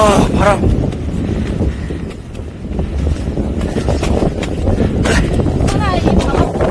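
Strong mountain wind on a ridge facing Jirisan, gusting hard enough to nearly blow away a backpacking tent, roars and buffets the microphone as a loud, continuous low rumble with brief voices at moments.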